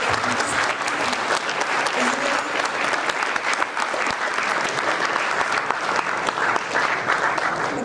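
A big round of applause from an audience welcoming a speaker at a wellness talk in California, steady, dense clapping that holds at an even level throughout.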